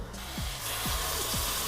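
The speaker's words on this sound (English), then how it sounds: "Lightly kind of fry the tomato paste in the butter with the onions" Tomato paste lightly frying in butter with onions in a pan, a steady soft sizzle running throughout, close and continuous, with a few faint low knocks or stirring touches.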